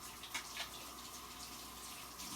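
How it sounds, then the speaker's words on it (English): Running tap water splashing steadily over hands being washed at a kitchen sink, a continuous soft hiss with a couple of brief splashy peaks, fairly quiet and without speech. "Wash my hands"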